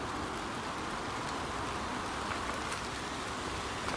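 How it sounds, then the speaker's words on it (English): Steady rain falls on an allotment, a dense, even hiss of drops holding constant throughout with no voices. "Well, it started raining on it."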